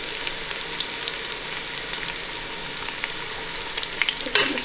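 Pea pilau ingredients frying in hot oil on low heat, giving a steady, continuous sizzle with faint crackles and a brief louder pop near the end, no voices.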